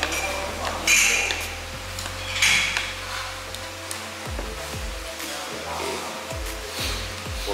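Cutlery clinking and scraping against a bowl as chicken noodles (mie ayam) are stirred, a run of close, irregular metallic taps and clinks over steady background noise from a street-side eatery in Pekanbaru.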